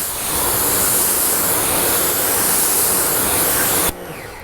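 Water rinsing off car paint treated with a ceramic detailer makes a loud, steady rushing hiss close by, then cuts off abruptly near the end and leaves a faint background.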